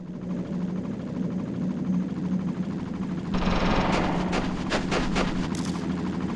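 A video-game helicopter drones steadily throughout with a low rotor hum, and partway through a burst of sharp crackling gunfire-like pops breaks out over it.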